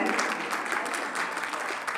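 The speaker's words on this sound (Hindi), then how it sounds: "तो अपने लिए एक जोरदार फिर से ताली" Audience applause at a Brahma Kumaris Mahashivratri celebration in Ambala Cantt, a steady dense clapping from a crowd filling the hall throughout.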